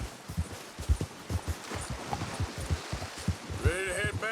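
A horse gallops in Red Dead Redemption 2 with close, rhythmic hoofbeats pounding in a quick, steady pattern, and a whinny-like cry breaks in near the end.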